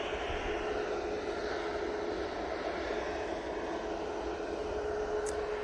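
A Jet2 airliner at Manchester Airport gives a steady, even engine roar that sits at a distance and holds level throughout, with no voices.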